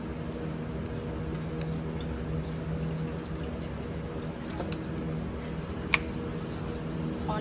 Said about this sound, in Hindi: पानी डाल दिया है।